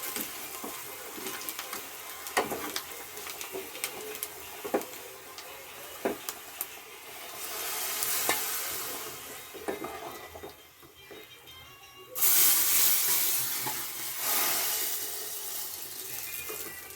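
Kashmiri red chili powder dropped into a hot tempering pan for bele saaru, giving a steady close sizzle and crackle with occasional stirring taps, swelling to a louder hiss near the end.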